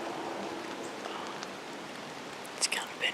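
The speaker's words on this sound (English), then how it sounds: "Well, it's still raining a little bit." Light rain falling outdoors during an opening-weekend bow hunt, a soft steady patter with a few closer drip-like ticks near the end, faint and alone.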